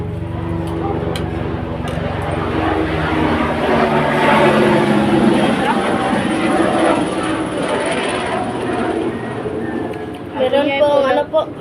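A loud, steady rotor and engine roar of a helicopter passing overhead, swelling in the middle and fading slightly, with voices talking near the end.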